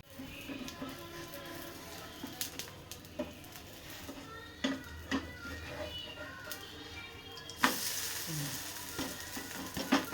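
Ghee sizzles steadily on an adai dosa frying on a pan, with soft clinks and stirring taps over the crackle and a louder burst of sizzle near the end; no speech.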